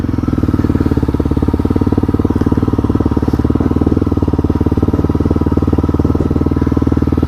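A Honda CRF250L motorcycle rides slowly through snow, its engine putting out a loud, steady, low chugging drone with a fast, even pulse throughout.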